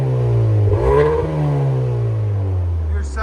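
Close, loud revving from a 2024 Hyundai Sonata N-Line 2.5L fitted with a Valvetronic Designs valved exhaust: one sharp throttle blip climbs and drops back to a steady, droning hold.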